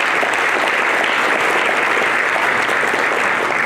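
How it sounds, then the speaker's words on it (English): A conference audience applauds awardees at the Arkansas Charter Schools Conference with dense, loud, continuous clapping that fills the whole stretch without letup. "Can we give them one last round of applause?"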